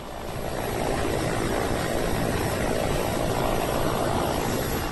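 Rescue helicopters fly over a flood-hit area in Mandi, Himachal, producing a loud, continuous rotor and engine roar that stays steady throughout without any speech.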